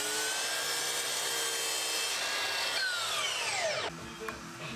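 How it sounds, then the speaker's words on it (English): A miter saw cuts a pine offcut rail for a workbench and outfeed table, a loud steady high whine of the spinning blade that drops in pitch as the motor winds down near the end, no talk. "marked them up and cut them at the miter saw"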